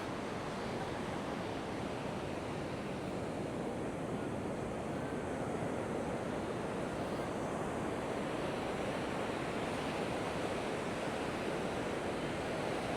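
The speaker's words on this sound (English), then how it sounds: "But I can see beautiful waves breaking out there." Heavy ocean surf breaks at Da Nang beach after a storm, with strong water surging up the shore. It is a steady, continuous roar with no pauses, mixed with wind rushing over the microphone.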